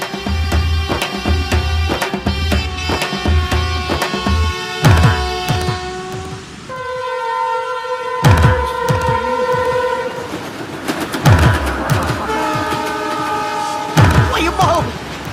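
A train rumbles past close by with rhythmic clattering of wheels, while a long horn blast sounds in the middle.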